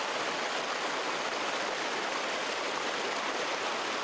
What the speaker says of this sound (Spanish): El rumor del río se escucha en casi todo el trayecto.